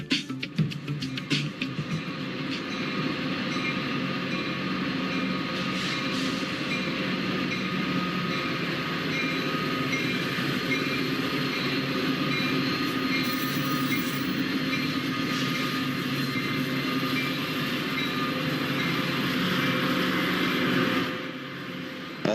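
A Metra commuter train on the Rock Island line toward Joliet rumbles steadily along the rails for a long stretch, a loud continuous roar with faint clatter that fades near the end, with no talking.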